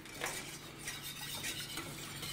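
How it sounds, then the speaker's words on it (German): Sauce made with asparagus stock being stirred in a pot, giving a steady soft scraping and swishing with faint clinks of the utensil against the pot, continuous and close, with no voices. "Dann rühren wir das wieder glatt."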